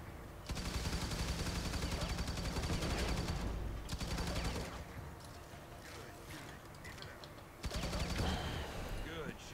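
Rapid gunfire from the shooter game Firefall comes in sustained automatic bursts with brief pauses, loud against a busy game soundscape.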